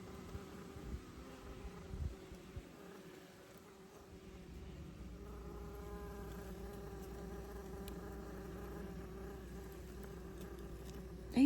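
A honeybee fans at the entrance of a 24-frame Layens horizontal hive holding a swarm colony, a steady low droning buzz that continues throughout, rising slightly in the second half with faint background noise.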